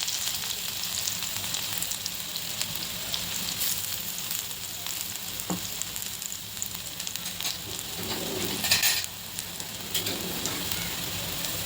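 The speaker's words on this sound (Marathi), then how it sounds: "ते तापल्यावर त्याच्यामध्ये ठेचलेला लसूण टाकते." Crushed garlic frying in hot oil in a wok for a fenugreek dish, a steady close sizzle with fine crackles and a louder burst of spitting partway through, no talk.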